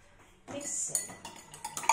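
A spoon stirs melon seed drink sweetened with honey in a glass, giving light clinks and scraping against the glass that grow busier after a quiet start, with no talking.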